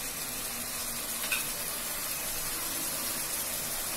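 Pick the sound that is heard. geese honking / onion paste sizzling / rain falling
onion paste sizzling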